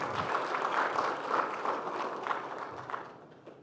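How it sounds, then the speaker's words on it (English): A conference audience at an aquaculture oral session applauds a presenter. The clapping is steady and fairly close, then thins and fades toward the end. "Let's give a round of applause to Andrea."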